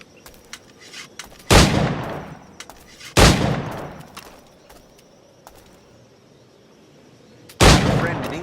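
Three loud, booming firearm shots in the Assassin's Creed 4 video game, spaced seconds apart, each followed by a decaying echo, with quiet ambient sounds and faint birds between them.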